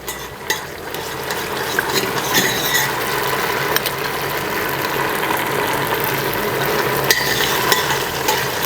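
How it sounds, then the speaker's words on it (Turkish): Tomato paste sautéing in oil for a Turkish noodle soup, giving a steady dense sizzle with scraping and stirring clicks throughout, no talking. "Salçamızı güzel yağda kavuruyorum ben."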